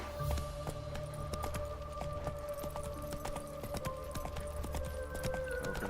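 Horse hooves clip-clop in steady rhythm within The Witcher 3, set against a dense layer of game music and ambient tones, with footfalls repeating evenly throughout.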